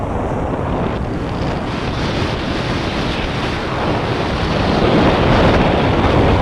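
River water near Rajula rushes under heavy outdoor wind buffeting the microphone, a dense, continuous broadband noise that grows slightly louder toward the end.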